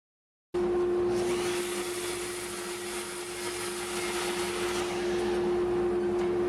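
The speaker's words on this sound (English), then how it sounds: "Now we're going to run these pieces through the joiner, true up an edge" Jointer truing the edge of poplar boards, its motor starting abruptly and then running as a loud, steady whirring hum close by with no voices.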